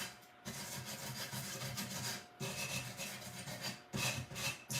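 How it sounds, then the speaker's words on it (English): A small sander passes over raised details of a painted tarnished-silver bowl, a soft, close abrasive rubbing in three sustained bursts separated by brief pauses, with no talking. "I'm going to use my little sander, and we're going to go over some of the raised details."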